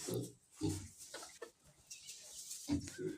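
Pigs grunt in short, low bursts while resting after feeding, several separate grunts with quiet gaps between, faint and close.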